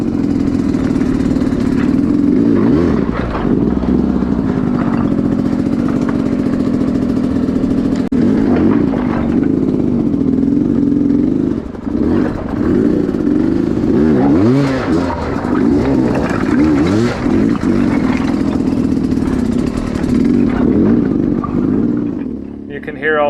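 Dirt bike engine revving and bogging while climbing a loose shale rock hill, loud and continuous with surging throttle changes and brief dips, and a voice talks over it at times.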